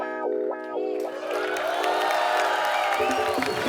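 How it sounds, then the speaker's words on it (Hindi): A TV comedy show studio audience cheers and whoops with loud applause building over a few seconds, voices rising together in a lively, close burst. "आप सबकी जोरदार तालियों के बीच मैं इनवाइट करना चाहूंगा इंडियन टेनिस सुपरस्टार सानी।"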